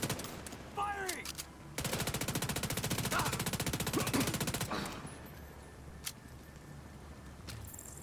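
SMG gunfire in The Division 2 plays as a sustained rapid burst of automatic fire lasting about three seconds, with brief game sounds before and a few scattered clicks and thuds afterward against a faint background.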